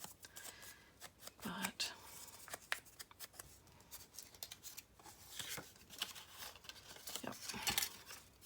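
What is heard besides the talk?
scissors cutting paper for tags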